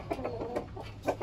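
A gamefowl rooster kept as a future brood stag in a backyard clucks in a string of short, soft bursts spaced unevenly over about a second, close by with no talk.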